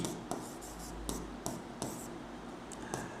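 Chalk or marker writing on a board during a simple-interest maths lesson, with a run of sharp, evenly spaced strokes and taps, fairly close and clear, with no talking over it.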